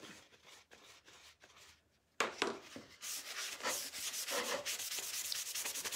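Wax is buffed by hand onto a painted surface, making rapid, close scratchy rubbing strokes. Intermittent at first, then after a short pause a denser, louder continuous rubbing.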